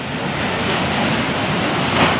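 Strong Typhoon Odette wind in Surigao City roars steadily in a dense, rushing wash of noise, buffeting close to the microphone without a break.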